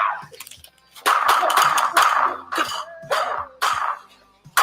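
A person coughs repeatedly at close range, a series of loud, harsh, rasping bursts with short breaths between them.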